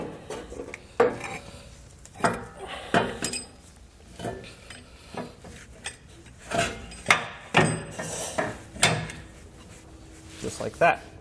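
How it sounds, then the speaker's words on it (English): Clanks and metallic knocks from an Air Lift LoadLifter 7500 XL air spring assembly being lifted into place under the frame of a 2019 Ram truck, irregular close-up handling thuds with garage noise between them. "we're going to go ahead and take our airbag assembly and lift it up into place"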